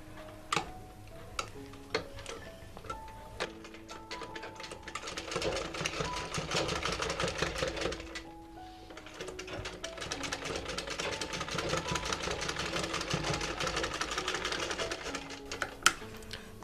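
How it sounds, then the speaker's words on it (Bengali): Sewing machine stitching along the folded side edge of a homemade cloth mask, a steady close ticking chatter in two long runs separated by a short stop, with scattered clicks. "নিয়ে এখন যে যে ভাঁজটা করেছি ঠিক সাইডে একটা সেলাই করব।"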